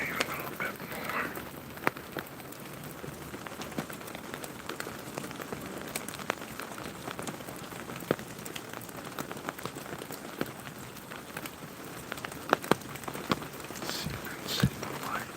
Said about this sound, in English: Listen to the rain a little bit more.